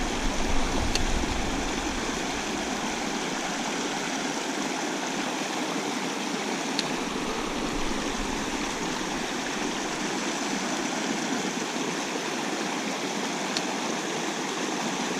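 A waterfall pours into a trout stream pool, a constant rushing splash of water heard close and steady for the whole stretch, with a few faint clicks and no talking.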